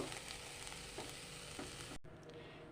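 Boiled banana flower fries in a pan with a steady, close sizzle and occasional stirring scrapes, then drops abruptly to a quieter hiss for the last moments.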